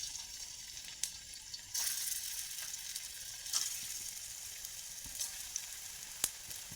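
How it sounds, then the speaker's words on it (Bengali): Eggplant pakoras frying in hot mustard oil in a kadai, a continuous crackling sizzle with occasional sharper pops and spatters, close and moderately loud, with no voices. "তেল গরম হয়েছে, এক একে পকোড়াগুলো ভেজে নেবো।"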